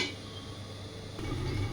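Lid set down on a cooking pan of silver carp fish curry with elephant-foot yam, a brief soft metallic clink and settle near the end, close, over quiet kitchen background, with no talking.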